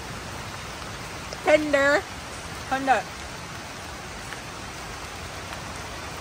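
Steady rain falls outdoors during a crab catch-and-cook, a constant even hiss throughout as a person briefly speaks over it.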